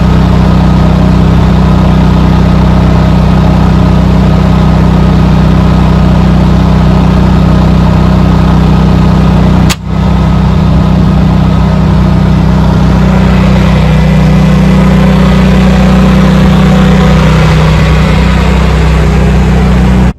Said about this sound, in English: The generator will continue for a cool down period of 5 minutes to run.